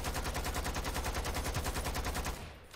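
Rapid automatic gunfire from the video game Lost Planet 2 rattles continuously and loudly for over two seconds, then cuts off abruptly into a fading tail.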